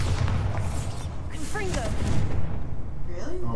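The Confringo fire spell in Hogwarts Legacy explodes, a loud, rumbling blast of booms and crackle under shouting and game effects.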